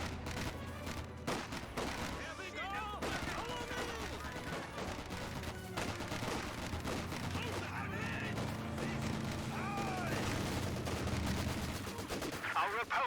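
A Vickers machine gun fires in Company of Heroes 2, with sustained rapid bursts of gunfire continuing steadily under a commentator's voice and a dense battle soundscape.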